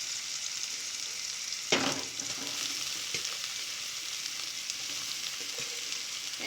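Onions and greens sizzle and fry steadily in a hot pan, a continuous close hiss with a few brief stirring knocks and no voices.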